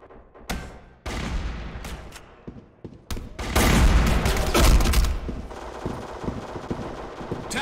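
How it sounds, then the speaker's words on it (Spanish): Heavy gunfire from the online shooter Black Squad: bursts of automatic fire and overlapping shots, loud and close, building into a dense, sustained barrage in the second half with no talking. "Ya no sé ni dónde vienen los tiros"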